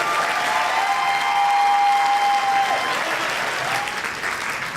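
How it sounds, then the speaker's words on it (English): Loud, steady applause from a convention crowd, with a faint whistle-like tone running through it before fading slightly toward the end. "please give yourselves a round of applause, and the staff and everybody."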